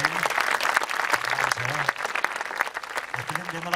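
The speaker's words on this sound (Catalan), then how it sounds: "Un fort aplaudiment per ell." Sustained applause from a crowd at a havaneres concert in Altafulla, dense clapping throughout, with a voice speaking over it now and then.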